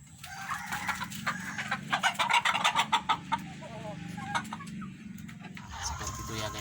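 Native Indonesian free-range laying hens in a colony coop cluck and squawk in a busy, overlapping chorus, with a rapid run of loud clucks midway before settling into steadier chatter.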